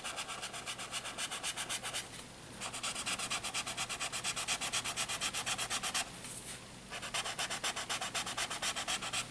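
Graphite pencil shading in small circles on paper while drawing a fish: a fast, steady, rhythmic scratchy rubbing, close and continuous, broken by two brief pauses.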